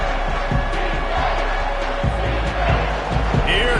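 A home crowd roaring at a college football game between Ole Miss and Michigan State on a third down, a dense, loud sustained cheer with thumping and shouts mixed in.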